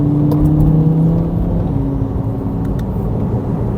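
A car pulls away from a green traffic light on a driving test route in Yeading, with a loud, steady engine rumble and whir as it accelerates and no voices.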